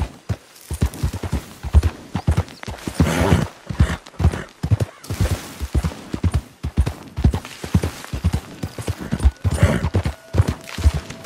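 Hooves clip-clop in a quick, uneven rhythm as a horse in Red Dead Redemption trots and gallops up close, with a brief whinny partway through.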